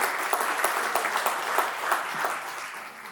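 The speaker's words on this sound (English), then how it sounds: "Can we give him a round of applause," People at a legislative oversight committee hearing give a short round of applause, a moderate crowd of steady clapping that gradually fades out.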